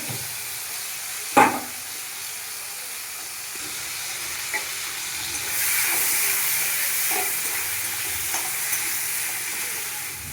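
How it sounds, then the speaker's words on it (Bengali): Shrimp fry in oil in a wok, a continuous sizzle that swells louder partway through, with a sharp utensil clank early on and a few light taps, no talking. "তুলে কড়াইয়ে আবার তেল দিয়ে চিংড়ি মাছটাকে ভেজে নেব।"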